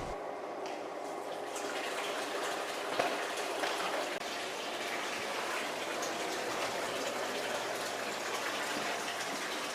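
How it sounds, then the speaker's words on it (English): An aquarium water pump sends a continuous, even rush of water back into a cylinder fish tank during a water change, a steady splashing gush that holds unchanged throughout. "it doesn't take long for the pump to send the water back into the tank"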